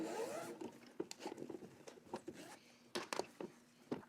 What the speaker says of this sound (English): go ahead and open your zipper